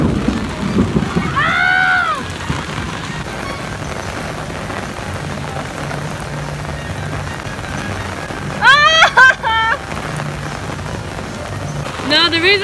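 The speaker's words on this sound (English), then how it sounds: "we're still out here while it's pouring rain" Heavy warm rain pours down during a Florida rainstorm, a steady broadband hiss of rain on surfaces running throughout, with brief voices and excited shouts breaking in near the start and toward the end.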